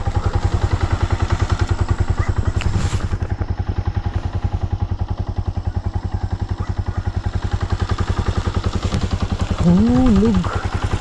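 A machine engine runs steadily on a farm, a loud, close, rapid chugging putter like a small single-cylinder motor that holds an even rhythm throughout, with a brief clatter early on and a short voice rising over it near the end.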